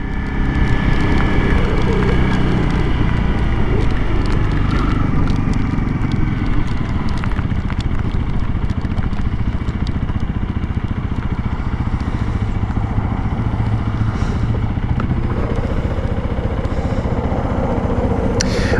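A Honda CRF 300L Rally dual-sport motorcycle cruising along, its single-cylinder engine humming steadily under heavy wind rush and rattling noise throughout, the pitch shifting slightly as it runs.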